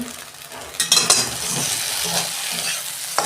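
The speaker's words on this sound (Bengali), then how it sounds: "ঢ্যাঁড়স আমার ভাজা হয়েছে, আমি একটু আগে নেড়ে দিয়েছিলাম।" Okra fries in oil in a pan after being uncovered, a close, continuous sizzle with a few clattering stirs and utensil knocks near the start and a faint clink at the end, no voices.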